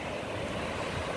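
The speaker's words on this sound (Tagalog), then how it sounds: "kay sarap ng alon" Ocean waves at a Mindoro shore at sunset, a steady, soft wash of surf blended with wind noise on the microphone, with no voices.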